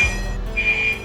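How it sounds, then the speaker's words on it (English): A fire alarm rings in a hallway at the top of the stairs: a shrill, steady electronic tone that swells louder partway through, heard alone with no voices. "So basically we set off the fire alarm in the hallway at the top of the stairs."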